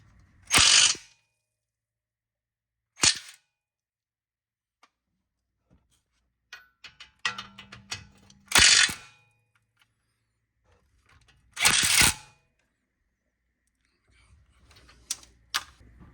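Bursts of ratcheting from a ratchet wrench with a 17mm socket working a 17mm bolt loose during lower ball joint removal on a Hyundai or Kia, five short clicking runs separated by pauses, close and fairly loud, with light handling noise between.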